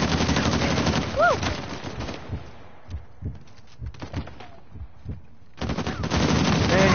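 Sustained minigun fire in Uncharted 4 rattles loudly in dense bursts at the start and again near the end, with a quieter stretch of scattered thuds and shots between.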